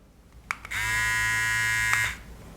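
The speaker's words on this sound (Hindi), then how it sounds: "जैसे आप सिंगल टैप करते हैं तो ये जो ट्रिमर है ऑन ऑफ हो जाएगा।" A cordless electric beard trimmer is switched on and runs with a steady, close, high buzz for about a second and a half. A couple of clicks come before it, and it stops abruptly.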